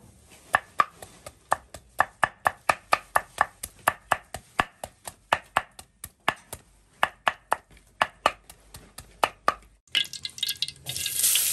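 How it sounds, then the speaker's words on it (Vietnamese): Ginger is smashed and chopped on a board for cooking snails, a long run of sharp, evenly spaced knocks with short pauses, close and crisp, ending in a brief burst of rushing noise. "bây giờ đập gừng để uh, ờ, xào ốc nấu canh"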